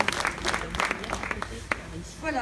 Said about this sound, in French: Je vous demanderai de l'applaudir également.